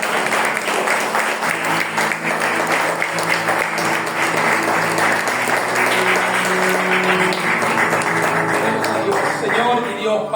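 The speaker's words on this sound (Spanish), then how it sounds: "Denle un aplauso al Señor por nosotros." Applause from a church congregation, sustained and dense throughout, with steady clapping from many people and underlying tonal bands suggesting music or voices beneath.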